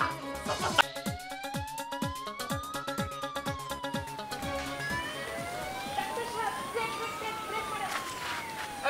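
An ambulance siren wails in a rising and falling sweep, loud and close, repeating across the whole stretch over street noise and scattered thumps.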